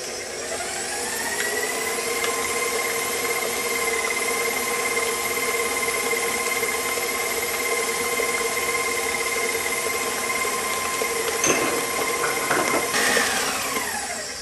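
A stand mixer runs steadily at medium speed, mixing flour into gluten-free cheesecake batter, with a constant whirring motor whine that holds level throughout and a little clatter near the end.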